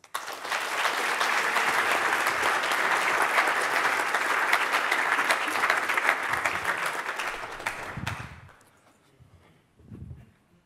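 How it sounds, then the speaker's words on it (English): An audience applauds at the Incube Final 2019 jury introduction, a dense sustained clatter of many hands for about eight seconds before tapering off into a few scattered sounds. "Please, a round of applause."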